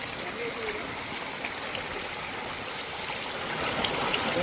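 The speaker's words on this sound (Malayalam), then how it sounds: "ചെറിയ ചെറിയ വെള്ളച്ചാട്ടങ്ങളും ഒഴുകുകളൊക്കെ ഇങ്ങനെ കാണാം" A forest stream tumbling over small waterfalls makes a steady, broad rush of flowing water. It is moderately loud and continuous, with no clear voices heard.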